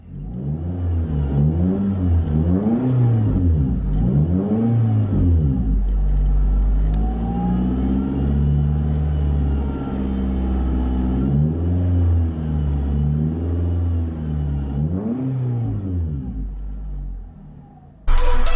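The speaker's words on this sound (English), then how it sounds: "Interior tone level is moderate with this Street Demon Performance Catback exhaust" A 2014 Nissan Rogue fitted with a Street Demon cat-back performance exhaust, heard from inside the cabin, revs repeatedly in rising and falling sweeps, then settles into a moderate steady drone while driving, with no speech.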